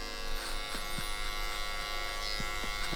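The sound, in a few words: hair clipper running while fading a beard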